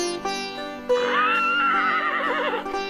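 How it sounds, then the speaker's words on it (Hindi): A horse gives a loud, close whinny in a historical drama, a rising shrill call that trembles and quavers for well over a second before fading, with a faint earlier snort. "यह किसकी आवाज थी? घोड़े की।"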